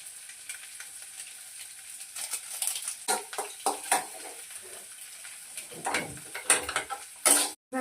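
Egg noodles frying with pepper in a hot pan, a steady close sizzle broken by repeated scrapes and clinks of a utensil stirring against the metal.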